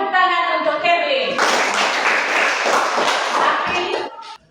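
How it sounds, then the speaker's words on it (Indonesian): Classroom applause for a student named Kevin during a Catholic religion lesson on baptism, a burst of many hands clapping that starts abruptly and runs steadily for a few seconds, following a voice speaking and fading out at the end. "Tepuk tangan untuk Kevin."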